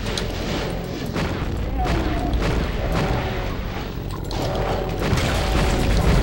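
Rocket launcher blasts in NeoDoom on the Toxin Supplier map, booming repeatedly over a dense, continuous layer of game noise and machinery, with a brief spoken remark.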